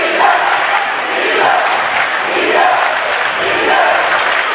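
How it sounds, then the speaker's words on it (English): Crowd noise fills a high school boys' varsity basketball quarterfinal between Portland and Windham, a steady, loud roar of many voices that swells and holds throughout without pause. "Crowd gets into it."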